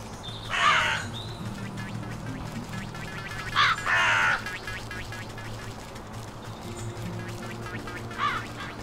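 Turkeys in the video game Wytchwood give harsh squawking calls in three or four short bursts over a steady low game background, moderately loud, with no talk.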